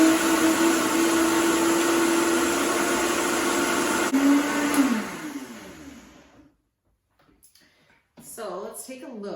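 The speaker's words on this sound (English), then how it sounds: "So I'm simply just going to blend this up in my Vitamix." A Vitamix blender whirs loudly and steadily through a cashew Alfredo sauce for about six seconds, its pitch sliding down as it winds to a stop. Silence follows, then a person begins talking.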